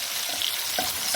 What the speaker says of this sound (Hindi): इसके बाद हमने इसमें डाल देनी है अदरक और लहसुन की पेस्ट। इसको भी हम 1 मिनट के लिए भूनेंगे।